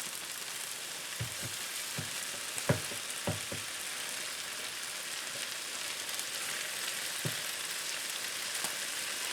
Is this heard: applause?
no